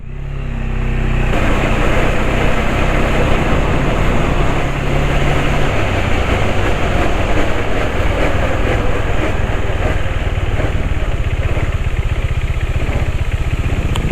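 A motorcycle's noisy chain rattles continuously as the bike rides a rough mountain road in the rainy season, with loud, steady engine and road noise filling the whole stretch and no talking.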